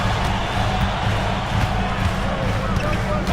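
Roar of a hostile arena crowd in a basketball video game, a steady dense wash of cheering and noise filling the whole stretch with no breaks.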